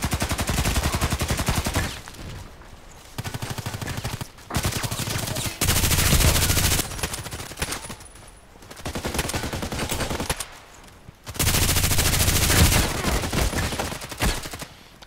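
Machine-gun fire in the video game Contract Wars comes in repeated loud, rapid bursts separated by short pauses, close and harsh throughout.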